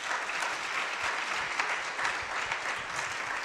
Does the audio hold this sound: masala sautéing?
no